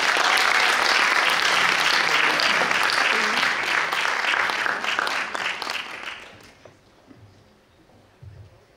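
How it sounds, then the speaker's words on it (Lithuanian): An audience at a youth sung-poetry festival and competition claps loudly and steadily for about six seconds as performers are called to the stage, then the applause tapers off into quiet room noise. "Kviečiame atlikėjus į sceną audringais aplodismentais"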